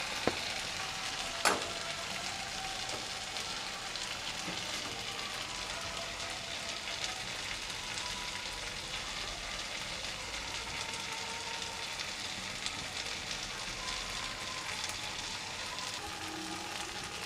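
Chicken curry frying in a pan with chilli powder, a steady soft sizzle and crackle carrying on throughout, with a couple of faint spoon knocks as it is stirred; no talking.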